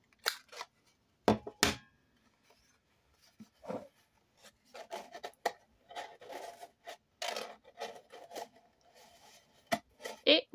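Scissors snip and trim a folded paper house, giving sharp scattered cuts and soft paper rustles, close and quiet, with irregular pauses between bursts.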